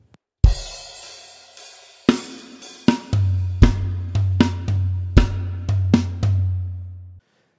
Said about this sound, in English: you could put a bass drum on the count three and a four like this